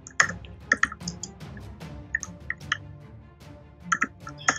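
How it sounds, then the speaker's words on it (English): Close computer keyboard typing in irregular bursts of sharp clicks, with short pauses between the runs of keystrokes. "You're typing."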